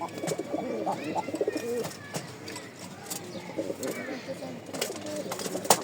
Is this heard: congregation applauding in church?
no